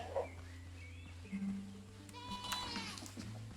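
Goat in the Windrose game gives a faint bleat, a brief wavering call over quiet game ambience and low tones.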